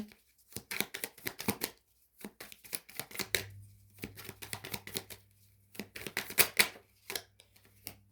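Tarot cards drawn and handled during a reading, heard as close, crisp bursts of shuffling, flicking and slapping card noises in uneven clusters with short pauses between, plus a low steady hum in the second half.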